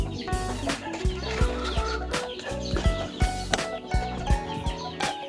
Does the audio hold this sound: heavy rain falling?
no